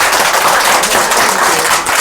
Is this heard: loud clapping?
yes